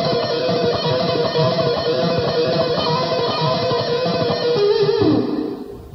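An electric guitar rips through a fast, dense run of notes, bright and gritty, played close and loud before ringing out at the end.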